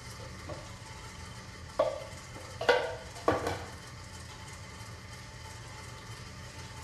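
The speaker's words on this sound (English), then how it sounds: "Just give it a little stir." Sugar syrup in a saucepan on high heat being stirred: a soft background hiss with a few distinct scrapes and clinks of the utensil against the pan around the middle, all fairly quiet and close.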